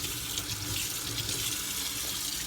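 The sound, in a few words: tap water running while washing a fork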